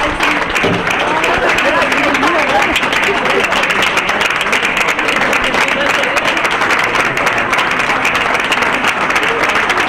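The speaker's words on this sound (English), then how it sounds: "The applause doesn't stop, and why should it?" Crowd at a North Country Honor Flight welcome applauding returning veterans, a dense, loud, unbroken wash of clapping that runs the whole time with voices mixed in.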